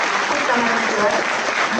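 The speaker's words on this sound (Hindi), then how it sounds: "आप उनके लिए थोड़ा तालियां हो जाएगी।" Dense, continuous clapping from an indoor audience, steady and loud with no pauses, filling the room.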